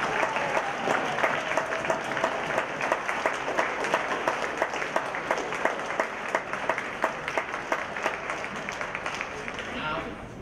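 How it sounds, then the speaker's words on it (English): Sustained applause from an indoor audience at a ceremony honoring a high school football team, many hands clapping steadily at a dense, even level throughout. "Please give them a round of applause."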